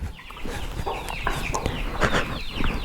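A hen clucks in a yard, with repeated short, fairly close clucks and squawks over a steady noisy background.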